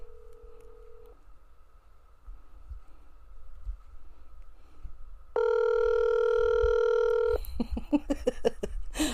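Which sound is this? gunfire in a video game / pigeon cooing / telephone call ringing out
telephone call ringing out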